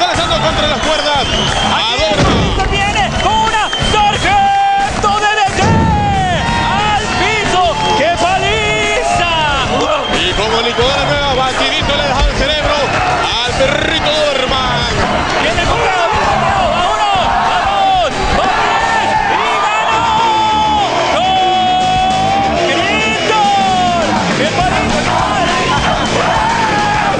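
Crowd cheering at a lucha libre wrestling match: a loud, unbroken roar of yelling and whooping spectators fills the whole stretch, with excited voices calling out over it and occasional thuds from the ring.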